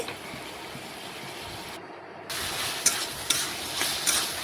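Bottle gourd and potato stirred in a wok as the liquid cooks off, with a steady low sizzle, a brief drop in sound, then louder scraping and a few sharp spatula knocks.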